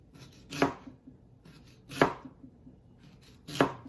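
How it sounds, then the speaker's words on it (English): A knife chops food into thin slices for a Niçoise salad, three crisp, evenly spaced cuts against a cutting board, close and clear in a quiet kitchen. "Just cut it in thin slices."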